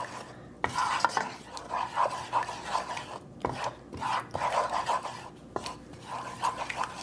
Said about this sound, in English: we're gonna stir it up because we want to combine the new peanut sauce into the existing sauce